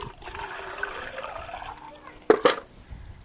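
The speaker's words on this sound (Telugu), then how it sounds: "ఎందుకంటే నేను ఇట్లా పోస్తున్నా కదా నీళ్ళు తేలినట్లయితాయి" Water poured onto potting soil in a planter sown with fenugreek seeds, a steady trickling pour followed by a couple of louder splashy gushes near the end.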